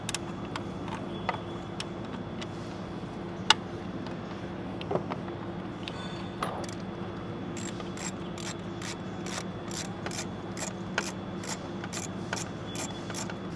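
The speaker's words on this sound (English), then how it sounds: "So now with a 10 mil, we'll get this bolt removed." A 10 mm ratchet backs out a bolt on a 2020-24 Ford Explorer ST 3.0L, the close, quiet mechanical whir of the pawl broken by scattered clicks and then a fast run of rhythmic ticks toward the end.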